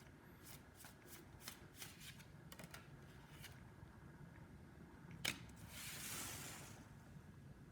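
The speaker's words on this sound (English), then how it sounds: "Let us get your cards for today's reading." Tarot cards shuffled close up in quick, soft riffles and taps, followed by a brief sharp snap and a short rustling swish, faint over a quiet background.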